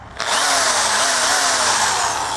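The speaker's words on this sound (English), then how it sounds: "power drill and wire brush" A power drill fitted with a wire brush spins up after a brief quiet moment and whirs loudly and steadily close by, its tone drifting slightly as the brush works against a surface.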